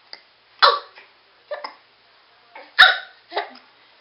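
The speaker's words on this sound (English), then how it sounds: "You got the hiccups now." A baby sitting in a walker hiccups four or five times in short, sharp bursts spread over a few seconds, close and clear against near silence with no talking.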